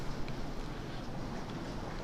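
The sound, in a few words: heavy rain outside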